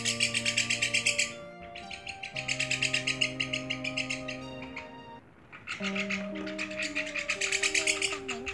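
Recorded calls of a white-winged migratory starling used as a bird lure: loud, clear whistled and chirping phrases in repeated bursts with brief pauses, accompanied by steady tonal background notes.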